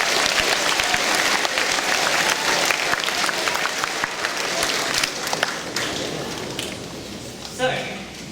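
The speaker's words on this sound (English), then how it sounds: "I would like everyone to give them a formal round of applause again for their hard work" Continuous applause fills a school assembly hall as students are recognized for their year's work, a broad crowd clapping steadily, with voices mixed in.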